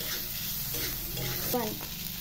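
Pre-fried potatoes sizzle in spiced masala in a pan, a steady close frying hiss with stirring scrapes and a brief voice in the middle.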